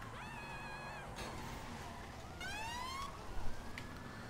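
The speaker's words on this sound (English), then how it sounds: "Car sirens off." A police car siren in the video game GTA 5 wails in rising and falling sweeps, alternating with higher chirping tones, moderately loud against background noise with no speech.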